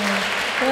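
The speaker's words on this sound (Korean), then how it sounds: "박수 한번 쳐주세요." An audience at an art exhibition opening applauds in a brief, dense burst of clapping, with a voice speaking over it.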